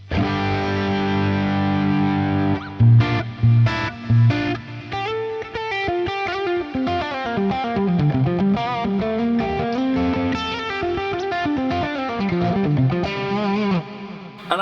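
A heavily distorted electric guitar through a Fractal Axe-FX or FM3 plays a bright, harsh, sustained riff and then a run of fast single notes, loud and saturated throughout.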